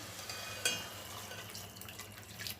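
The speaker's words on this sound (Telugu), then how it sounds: "మగ్గిపోయిందండి నీళ్ళు పోస్తున్నా" Water is poured into a pan of tamarind leaf and onion curry cooking on the stove, giving a soft, steady splashing and trickle with one brief sharper splash near the start, faint and close.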